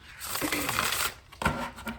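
Tarot cards are shuffled briskly with soft riffling and rubbing sounds, close and fairly quiet.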